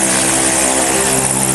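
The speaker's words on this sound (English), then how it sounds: "And that's the plane." Propeller plane carrying skydiving jumpers at a skydiving centre in New Zealand's North Island, a steady loud engine drone with dense harmonic hum, close and continuous throughout with no voices.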